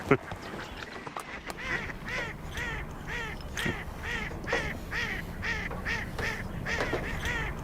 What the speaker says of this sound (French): Les canards là-bas.